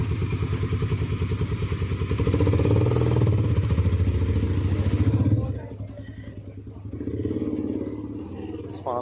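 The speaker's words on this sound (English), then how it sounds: "Oh, sports bike." A sports motorcycle passing along a street in Galle Fort, Sri Lanka, its engine a loud rumbling drone that fades away partway through, leaving quieter street background.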